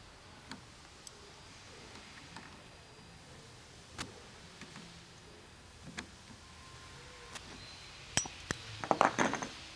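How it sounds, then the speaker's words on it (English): A wrench tightening a jam nut on a latch cable, heard as scattered faint metallic ticks and clinks at close range, growing into a quick cluster of clicks at the end over quiet background. "When it's time to tighten the jam nut, use a 7/32 wrench to hold the hex nut end of the latch cable in place."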